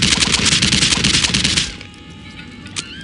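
Rapid automatic gunfire in the video game Postal 2 rattles loudly in a continuous burst for about a second and a half, then stops, leaving quieter game ambience and a single faint later report.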